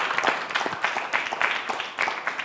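A church audience at a gospel music event applauds with steady, fairly loud clapping and scattered cheers. The clapping swells in waves and a voice is faintly audible underneath.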